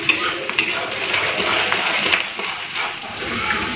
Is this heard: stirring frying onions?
yes